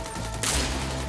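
Barrett MRAD Mk22 sniper rifle firing in the video game Warface, a single loud, sharp gunshot with a brief echoing tail.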